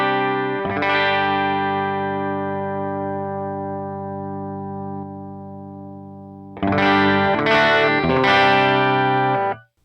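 Acoustic guitar run through a compressor for an electric-style tone: a strummed chord rings out and slowly decays, then a second burst of loud strums follows near the end, with no talking.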